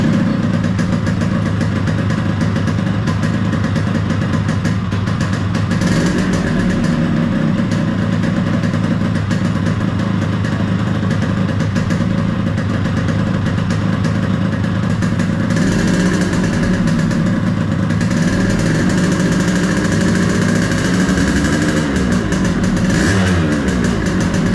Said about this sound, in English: I was very much surprised to see that the engine was still running even when I switched the key off